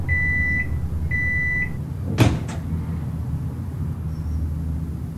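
Microwave oven in an indie horror game runs with a steady low hum, opening with two short electronic beeps and then a sharp clunk of its door or mechanism partway through.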